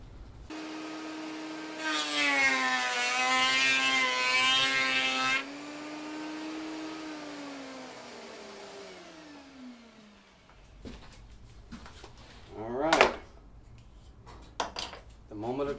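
A router fitted with a large bit at its lowest speed cuts raised wooden panels for doors, a loud whining tone that sinks in pitch as the motor spins down, followed by clattering and someone speaking.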